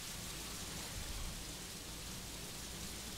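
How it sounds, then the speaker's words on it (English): Steady, dense rain hiss falls across a map in the video game Unreal Tournament 3, a constant wash of noise with no voices and no distinct drops. "it has the really, really awesome, obviously, physics effects on it, like the rain and I think hail comes down in a bit"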